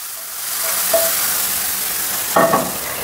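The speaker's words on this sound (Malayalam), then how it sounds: "ഈ താളിച്ച ഈ ഐറ്റം നമ്മൾ ഇതിൻ്റെ അകത്തോട്ട് ഒഴിച്ചു കൊടുക്കാൻ പോവാണേ" Hot tempering for a vegetarian curry sizzles in the pot with a loud steady hiss, punctuated by a couple of sharp clinks of a spoon or ladle against the vessel.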